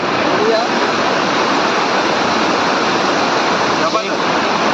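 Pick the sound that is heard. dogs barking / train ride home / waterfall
waterfall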